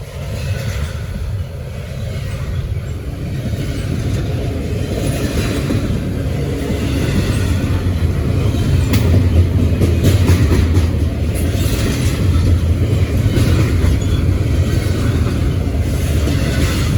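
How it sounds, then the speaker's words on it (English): A Norfolk Southern freight train of all loaded cars rolls past nearby, a loud continuous low rumble with steady rail clatter and wheel noise throughout, no voices. "this train is all loads"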